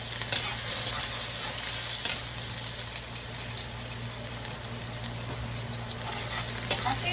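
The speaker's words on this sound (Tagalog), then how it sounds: "mainit na po ang ating mantika. Lagay na po natin ang bawang" Garlic fries in hot oil for chicken afritada, a steady close sizzle and crackle with occasional stirring scrapes and a low background hum.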